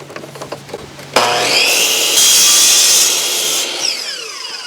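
A power saw with a carbide blade cuts through scrap wood containing nails. There is a sudden loud whining cut that stays high and steady for a few seconds before easing off, following quieter rustling at the start.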